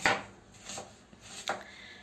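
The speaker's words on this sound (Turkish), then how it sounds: "Annem burada soğanları doğrarken" A knife chops onions in a home kitchen, three or four distinct sharp knocks against a board spaced irregularly, with quieter scraping between them and no talk.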